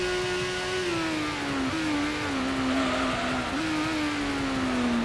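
A Toyota Supra in a racing game holds a loud, steady engine drone that shifts pitch slightly twice as the revs change, with faint tire noise and no voices.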